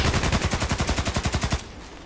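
Automatic fire from an OTs-33 Pernach pistol in the shooter game Contract Wars: a rapid, even burst of about fifteen sharp shots over a second and a half, then it stops abruptly.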